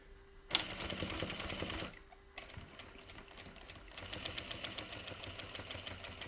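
JACK industrial sewing machine stitches a seam with start and end tacks, giving quick rhythmic mechanical chatter in short bursts with brief pauses and a clack between runs, fairly faint and close.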